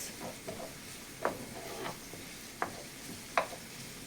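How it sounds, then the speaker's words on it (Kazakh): Chopped onion frying gently in oil for a pirozhki and belyashi filling, a faint, soft sizzle broken by a few sharp utensil taps against the pan. "Қатты күйдірмей, шамалы қуырып аламыз."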